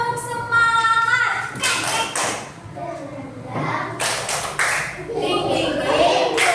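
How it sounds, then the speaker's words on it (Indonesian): A classroom group of children doing a rhythmic spirit clap, with sharp claps in short patterned bursts mixed with chanting young voices and an adult talking between them. "sebelumnya tepuk semangat dulu"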